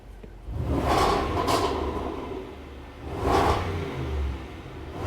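A 2021 Range Rover Sport SVR with a 575 hp 5.0 V8 revs twice at close range, each rise swelling into a loud, rumbling burst before easing back to a steady idle.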